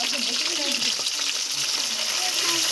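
Fish frying and bubbling in a hot pan, pressed down from above as it cooks in red-tinted oil; a steady, loud sizzle with crackling runs continuously throughout.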